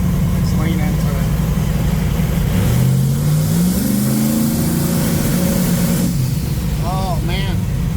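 A 1980 Pontiac Trans Am V8 held on a trans brake revs up from a rough idle, the engine note climbing steadily then holding loud and close, with a voice speaking over it.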